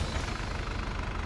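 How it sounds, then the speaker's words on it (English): Steady low rumble of a tractor engine idling in Farming Simulator 25 on a winter farm, continuous and fairly close with a slight knocking texture, no talk. "And we'll shut this tractor down."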